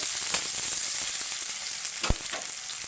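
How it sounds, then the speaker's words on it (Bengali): Onions frying in oil after cumin and dried chilli have been added, a steady moderate sizzle with a couple of sharp utensil knocks near the pan, no talking. "এবার আমি পেঁয়াজ দিয়ে দিচ্ছি দিয়ে একটু লাল লাল করে ভেজে নেব"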